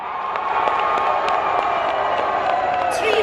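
A large stadium crowd cheers and applauds as the Quaid-e-Azam Trophy is presented to the overall winners, Pakistan Army, at the closing ceremony of the 35th National Games; the roar is loud and sustained throughout, with a bright whoop near the end.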